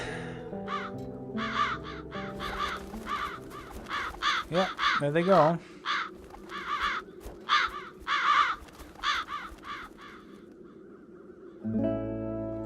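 Crows caw in repeated harsh bursts in the video game The Dark Eye: Chains of Satinav, loud and close over a background music bed, with someone speaking briefly over the calls.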